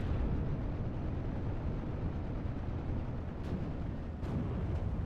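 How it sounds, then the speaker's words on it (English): Bursts of 37 mm flak anti-aircraft fire rumble in a dense, continuous barrage of low booms in a video game battle, heavy and sustained with a few sharper pops near the end, and no voices. "It is receiving some fire from these Flak 37 millimeters."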